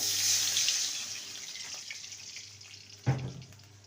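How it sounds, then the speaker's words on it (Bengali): A little water poured into a pan while making jujube pickle with date-palm jaggery, a soft splashing trickle that fades, followed by a brief louder clink near the end. "সামান্য জল দিয়ে দেবো"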